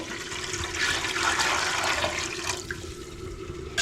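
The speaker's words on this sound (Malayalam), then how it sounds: "നമ്മൾ ഒരു മൂന്ന് മൂന്നര കപ്പ് വെള്ളം ഒഴിച്ചു കൊടുക്കുകയാണ്" About three and a half cups of water are poured into a pot of sautéed beef biryani base to cook the rice. The pour gushes steadily for a couple of seconds, then stops, followed by a small clink.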